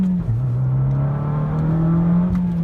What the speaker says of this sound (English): You step on the gas, you can hear the turbo spool.